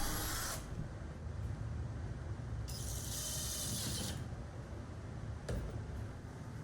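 A homemade wooden tenoning jig slides back and forth along its guide strips, giving soft scraping, rattling friction with a brief hissy burst in the middle, quiet and close with no talking.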